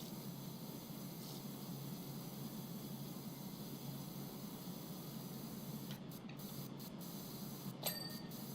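Pressure washer spray nozzle in PowerWash Simulator 2, a steady broadband hiss of water spray running continuously at moderate level, with a few brief clicks and interruptions near the end.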